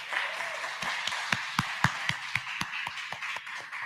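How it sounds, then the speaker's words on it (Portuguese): An audience at a talk on the internet's birth, peak and death gives a round of sparse applause, with individual claps standing out in a fairly steady rhythm over a soft room murmur. "Uma salva de palmas."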